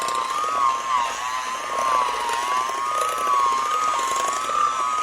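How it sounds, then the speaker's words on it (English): A whisk beats a dark chocolate ice cream base mixture with a steady, even mechanical whir that wavers slightly in pitch and runs without a break, close up, with no talking. "You don't want to have the whisk going too fast."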